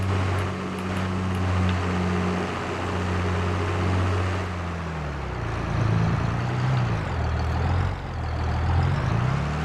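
A tractor in a farming video game drives along with a steady, loud low engine drone, its pitch dipping and rising as it shifts and revs through the middle and near the end, with no voices over it.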